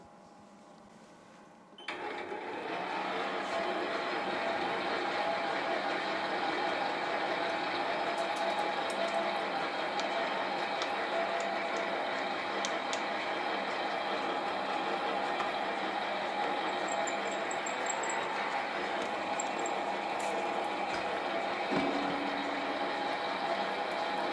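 A lathe drills an engine water hopper with a 6mm bit at slow revs: after a quiet start, a steady mechanical whir and hum kick in at about two seconds and run evenly and continuously, with faint higher squeaks and no talking.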